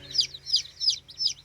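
Baby chicks, silver-laced Polish and an Americana, peep and cluck in four repeated bright bursts at an even rhythm, close by with no talk.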